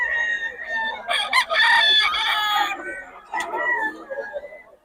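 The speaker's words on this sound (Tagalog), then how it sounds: "Mga manok ni Boss M mga idol." A rooster crows loudly and repeatedly, with hens clucking around it and a voice talking over the birds.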